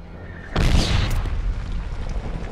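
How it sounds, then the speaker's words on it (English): A mortar round explodes in a Medal of Honor battle, a sudden loud boom that swells and rolls on in a long rumbling decay. "Mortar inbound."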